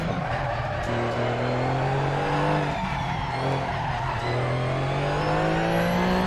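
A Porsche 911 GT3 Cup car slows at Laguna Seca in Assetto Corsa, its engine note falling and rising while tires squeal and scrub under braking, loud and continuous with no talk.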